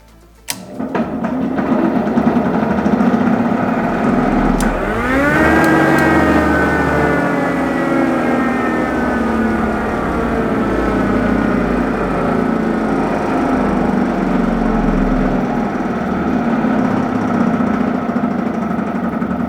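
A jointer in a workshop runs continuously after a belt fix, a rough, loud mechanical drone with a rattling grind and a brief pitch sweep as it comes up to speed, then holds steady throughout.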